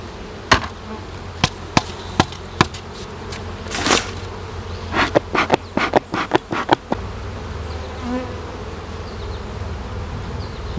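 Honeybees humming around an open hive colony, a continuous soft drone close by, punctuated by a series of sharp knocks and taps from handling the hive frames.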